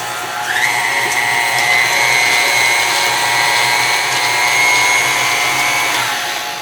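Electric hand mixer whirring steadily while whipping a chia seed egg replacer for vegan, oil-free oatmeal raisin cookies, a loud continuous motor tone that rises at the start and holds for several seconds.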